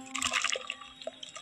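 Raw potato paste is poured into a strainer, giving a brief wet, sloshing pour with soft drips, close and fairly quiet.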